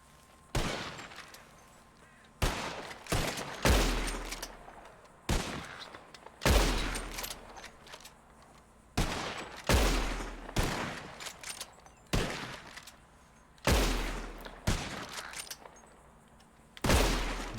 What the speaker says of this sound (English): whoever shoots 4 birds out of the sky first wins